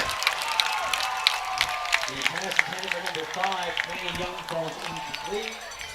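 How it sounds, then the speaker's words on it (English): West Prairie football crowd cheering and yelling at a high school game, a noisy roar of voices with scattered claps and shouts, heard at a distance with a commentator talking over it. "West Prairie crowd went crazy"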